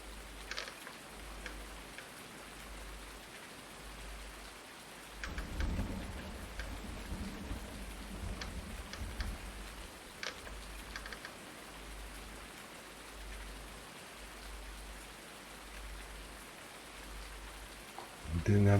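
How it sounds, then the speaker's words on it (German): Steady rain hiss in the farming game Farming Simulator 19, heard continuously throughout, with a low rumble swelling partway through and a slight lift near the end. "es regnet und regnet."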